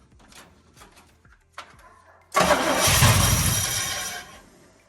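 A 1972 Chevy short box 4x4 truck engine, unrun for 20 years: a few brief cranking attempts, then it catches and roars loudly, settling into a rough run before easing off.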